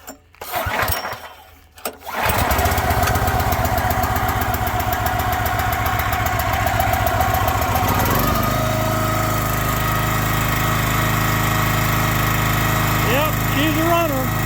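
Small engine pulled over a couple of times in a garage before catching, then settling into a loud, steady running rattle that changes pitch as the throttle shifts, with brief chirpy noises near the end.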